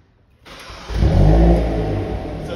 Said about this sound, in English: it has a fun exhaust. I'm gonna start it up so you can hear it.